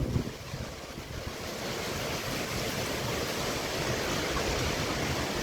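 Gusty wind blows steadily after a rain storm in Dyer, Indiana, a broad continuous roar with buffeting on the microphone and no voices.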